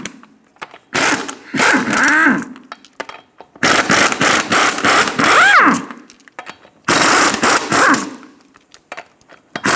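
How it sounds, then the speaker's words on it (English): Pneumatic impact wrench loosening the six lug nuts on a 2000-2006 Toyota Tundra front wheel, three long buzzing bursts with whining tones, close and loud, separated by short pauses. "Remove the 6 lug nuts."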